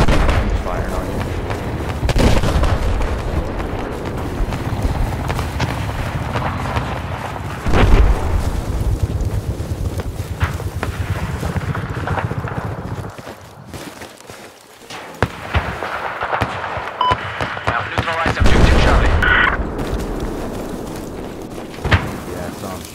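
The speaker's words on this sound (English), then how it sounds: "Now he's shooting at you." Gunfire in a multiplayer first-person shooter match, with bursts of shots and booming blasts layered over game noise while players talk over team chat.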